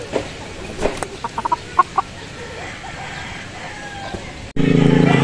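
A Golden Boy pumpkin Sweater gamecock gives short, soft clucks near a person, ending abruptly in a loud burst of steady noise.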